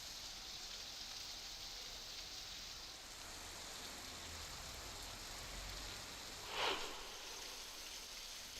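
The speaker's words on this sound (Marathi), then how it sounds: "पाऊस कोसळतोय" Heavy monsoon rain pours steadily at Rampur Ghat near Chiplun in Ratnagiri during a stormy downpour, a dense, even hiss of water with one brief sharper splash or thump near the end and no voices.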